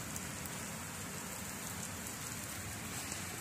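Rain falls in a steady, uniform wash of hiss, faint and distant, with no distinct drops or breaks and no voices.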